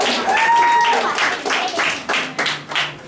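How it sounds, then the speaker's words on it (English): Scattered clapping rises in short bursts under talking voices, moderately loud and close, at a school film presentation at Trinity Academy in Ghana. "give her a hand clap"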